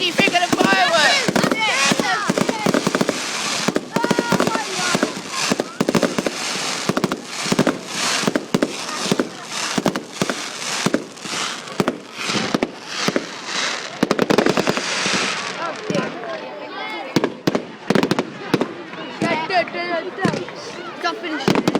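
UK fireworks display with dense, continuous volleys of loud bangs and crackles, rapid and overlapping for the whole stretch, with people talking underneath.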